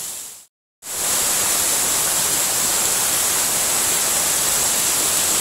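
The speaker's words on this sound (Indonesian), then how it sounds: "air terjun yang tidak begitu besar ini" Small waterfall at Tumpak Sewu, a loud, steady roar of falling water that continues without a break after a brief silent gap near the start.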